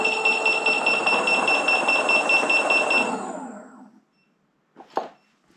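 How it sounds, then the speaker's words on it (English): Beeps from the controller of an electric skateboard running Mten4 custom firmware: a sustained loud tonal alarm rings for about three seconds, then fades, followed by one short, quieter beep. "now it goes to the quiet beeps"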